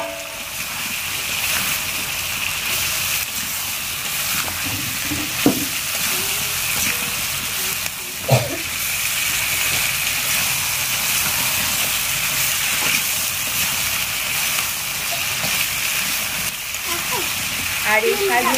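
Spice paste containing mustard frying in a pan, a steady moderate sizzle with a couple of sharp knocks from a utensil, continuing throughout.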